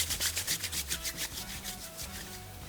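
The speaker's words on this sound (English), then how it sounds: "I use that as an opportunity to do the whole hand rubbing" Hands rub briskly together over spilled bourbon, a close rhythmic swishing of skin on skin repeating several times over a few seconds, fairly quiet and with no talk.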